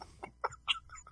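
A human voice imitates a rooster crowing, a short series of clucking, crow-like bursts over about a second, quiet and close, in a casual podcast-style setting.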